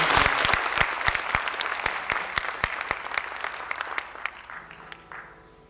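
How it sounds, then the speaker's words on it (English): An audience at a folk festival in Anchorage claps for performer Woody Gray, starting as a dense burst and thinning to scattered individual claps that fade out. "would you give him a nice round of applause?"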